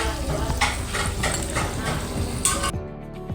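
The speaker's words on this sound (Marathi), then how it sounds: "वडे बघा मस्त असे मंद आचेवर तळून घेत आहे मी" Dahi vada frying over low heat in oil in a kadhai, a soft steady sizzle with occasional stirring clinks and a brief louder clatter near the end.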